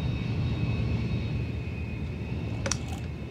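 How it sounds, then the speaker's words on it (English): Lakon Type 9 ship's engine throttled to full power in Elite Dangerous: a steady, dull, droning roar holds evenly throughout, with a faint high tonal whine above it and a brief metallic flutter near the end. "The engine doesn't sound as swift as the Eagle. It's got more of a dull noise to it."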